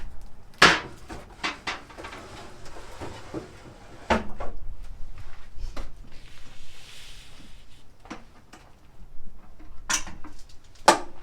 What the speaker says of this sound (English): I'm just going to close the charcoal drawer.